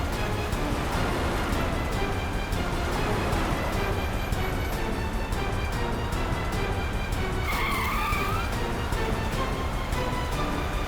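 A car is driven recklessly, its engine roaring continuously close by while tires squeal and skid, with a sharper screech of rubber near the end, all under dense, unbroken noise.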